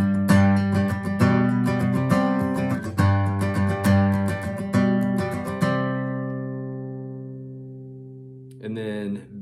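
Segue from one song into another played on acoustic guitar: rhythmic strummed chords and plucked notes for several seconds, then a long ringing chord decays before a brief final strum, close and clear.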